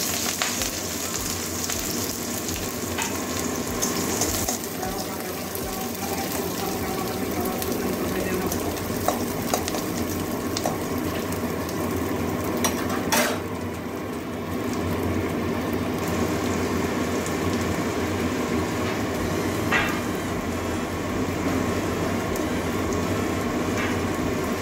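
Chopped onion and green chilli frying in a pan with cumin seeds for a mushroom and drumstick-leaf dish, a steady close sizzle filling the whole stretch with occasional stirring scrapes.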